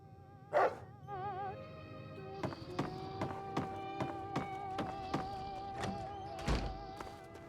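A dog in Fallout: New Vegas makes a sharp yelp, then a run of evenly spaced thudding barks over a steady tonal game hum and music, with no talking.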